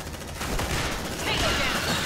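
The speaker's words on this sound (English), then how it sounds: "Suppressive fire!" Suppressive gunfire in Aliens: Dark Descent, a continuous roar of rapid automatic shots, loud and close, sustained throughout and thickening toward the end, with voices shouting under it.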